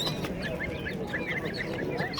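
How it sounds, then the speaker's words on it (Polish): Roosters and hens at a poultry and bird market in Proszowice cluck and squawk in overlapping bursts, with other fowl calling around them amid a busy, crowded background. "To popielaty to jest kogut, a to jest kurt."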